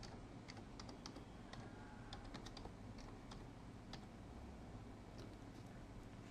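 Light, irregular keystrokes on a computer keyboard, a quick run of close, crisp taps over a soft background hiss; no one speaks.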